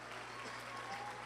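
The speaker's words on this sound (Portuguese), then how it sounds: "eu já quero pedir que você bata palmas para quem fez a decoração da entrada da conferência" Soft, brief applause from a church conference congregation for the entrance decorators, a faint continuous patter of clapping with a low hum beneath.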